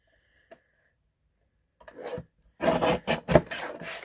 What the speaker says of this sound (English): what I want is to just trim this down just a little bit